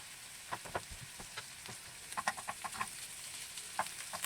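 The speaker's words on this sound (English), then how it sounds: "We put the sliced meat on the pan and fry it thoroughly on both sides." Sliced meat fries in a pan with a quiet, continuous sizzle punctuated by irregular sharp pops and crackles, faint and close, with no voices.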